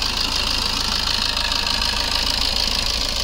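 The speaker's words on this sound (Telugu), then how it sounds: "ఇంజన్ సౌండ్ చూడండి ఒకసారి." A 2015 Maruti Ertiga ZDI diesel idles with a steady, close engine rumble and light diesel clatter, unchanging for a few seconds with no voices over it.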